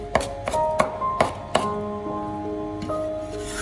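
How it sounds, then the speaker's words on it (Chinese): A knife chops bird's eye chili peppers on a board with about six crisp, separate strikes spaced unevenly at first, then softer cuts, while sustained musical tones sound faintly underneath. "将小米辣切碎"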